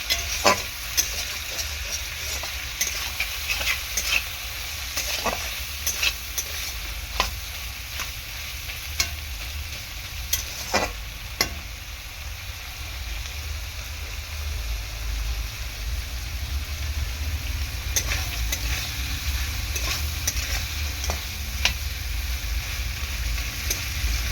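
Prawns fry in a pan with a little salt, giving a steady low sizzle broken by sharp scrapes and clicks of a spatula as they are stirred, over a faint background hum.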